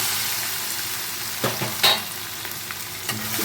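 Soybean chunks frying in oil seasoned with turmeric and salt make a steady close sizzle, punctuated by a few sharp stirring scrapes near the middle and end, with no talking.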